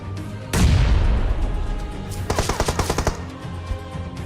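A battle royale video game fight with a loud explosion boom followed by a rapid burst of automatic gunfire, close and punchy, with no talk over it.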